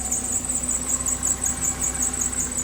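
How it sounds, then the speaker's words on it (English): A squealing engine belt on a Mazda Miata screeches steadily and loudly over the idling engine, holding a continuous high-pitched whine with slight rhythmic pulsing and no talking. "That belt is screaming for dear life."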